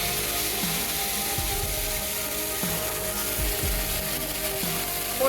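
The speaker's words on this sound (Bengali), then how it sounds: "ফুলকপিটা আলু ভাজার তেলের মধ্যেই দিয়ে দিচ্ছি।" Cauliflower sizzling in oil left over from frying potatoes, a steady close crackle and hiss throughout with a few knocks from a utensil against the pan.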